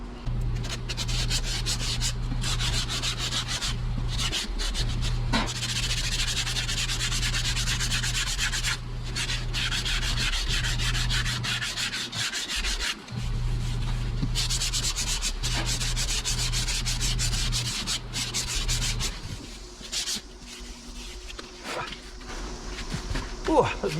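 Fiberglass filler on a dent repair being sanded and shaped by hand, a continuous gritty rubbing scrape in long steady strokes with a few brief pauses, close and fairly loud.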